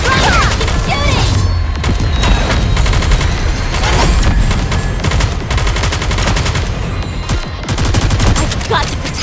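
Dense automatic gunfire from a Nikke battle rattles on loud and continuous, with impacts and crashes mixed in and occasional voices underneath.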